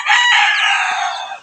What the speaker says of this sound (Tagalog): Yun ay Bisaya nga manok mga kaidol.